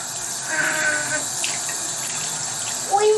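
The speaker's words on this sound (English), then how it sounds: "Firstly, I turn on the water" Water runs from a tap into a sink for handwashing, a steady close splashing flow lasting a few seconds with small squeaks of the tap.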